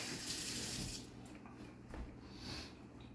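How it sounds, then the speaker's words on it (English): Tap water runs into a kitchen sink as hands are rinsed while cooking venison stew, a steady broadband rush that is louder for the first second, then eases to a softer, uneven splashing. "Rinse your hands quick"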